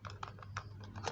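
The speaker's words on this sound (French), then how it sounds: "Écoutez le bruit de mon clavier encore." Rapid typing on a computer keyboard at home, quick irregular clicks in short bursts, close and fairly quiet over a low steady hum.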